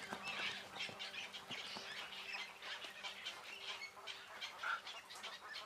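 Herons, ibises and spoonbills perched in dense willow thickets on small river islands give a steady chorus of overlapping squawks and croaking calls, moderately close, with a faint low hum underneath.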